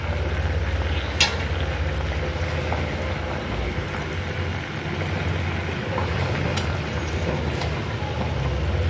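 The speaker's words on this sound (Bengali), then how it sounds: "এবার জাস্ট এই মিশ্রণটা এই গ্রেভিতে দিয়ে দেবো, সাথে অ্যাড করে দেবো আমাদের ভেজে রাখা মাছের পিসগুলো।" A simmering gravy takes in a flour-and-milk mixture and pieces of fried fish, producing a constant close hiss and bubbling sizzle, with two sharp utensil clicks standing out.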